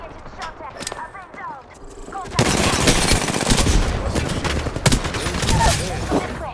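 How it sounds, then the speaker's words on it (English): Rapid automatic gunfire in the video game Apex Legends, sparse shots at first, then a dense sustained barrage of bursts mixed with game voice callouts. "Listen up, I'm getting shot at."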